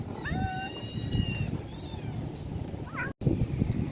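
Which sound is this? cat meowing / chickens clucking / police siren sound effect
cat meowing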